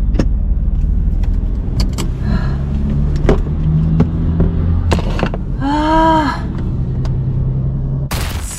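Car driving along a rural road in the United States: a loud, steady road and engine rumble from inside the cabin, with scattered clicks and a brief tonal sound over it.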